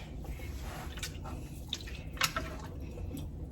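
A spoon stirs cumin-spiced soup in a pot, giving soft, faint liquid swishes and small wet clicks against a low steady background hum.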